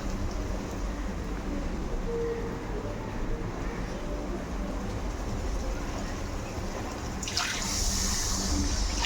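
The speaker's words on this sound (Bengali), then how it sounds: "জল দিয়ে দিই এবার।" Water is poured into a pan of fish masala, already fried until the oil separates, for a large batch of fish curry, giving a steady broadband rush and sizzle that swells and brightens near the end as the pour hits.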